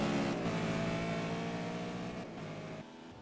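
Race cars howl through the final lap at Donington in a championship race, engines revving loud and close, then fading as the cars pass.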